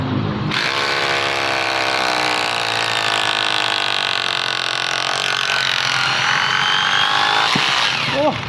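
An electric drill whose chuck no longer locks the bit spins continuously with a loud, steady motor whine that starts abruptly and holds throughout.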